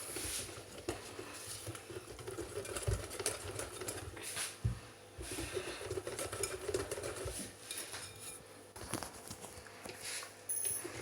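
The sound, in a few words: mixing eggplant fritter batter with water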